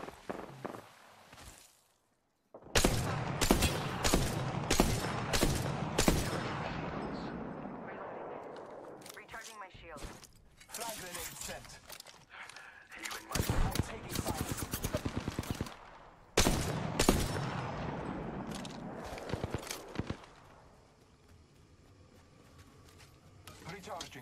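Gunfire in Apex Legends, with dense bursts of rapid automatic shots broken by short pauses and scattered single cracks, loud and close over faint game sounds.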